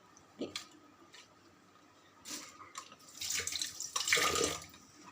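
Tap water splashes over crab pieces being washed and cleaned in a sink, with quiet handling at first and then louder, bursty gushing and sloshing toward the end.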